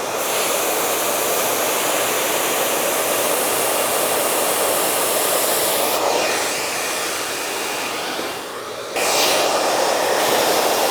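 A hair dryer blows in a steady, loud whoosh, dipping briefly in strength as the airflow shifts, then roaring back at full power.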